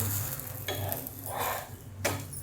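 Food frying in oil for a quick breakfast dish, turned in the pan: a continuous close sizzle with a few scraping turns and one sharp clink near the end.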